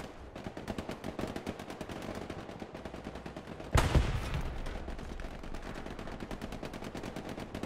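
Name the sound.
gunfire in the Hell Let Loose video game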